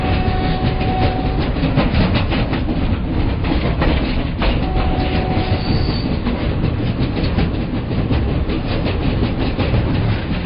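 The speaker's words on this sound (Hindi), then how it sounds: "मगध अपने रफ्तार से चल रही है" The Magadh Express runs through Bihar, India, with a loud, continuous rumble and a steady clickety-clack of wheels on rails, a faint squeal now and then, and no voices.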